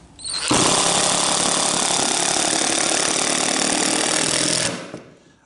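Power drill driving 3-inch deck screws with a star bit into wood while building an I-beam sawhorse, a loud continuous whining, grinding burst lasting about four seconds before cutting off abruptly.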